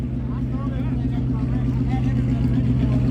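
Car engine revving hard and steady while the wheels stay still, apparently from a rear-end clutch fault, a loud continuous drone with a few voices talking faintly underneath.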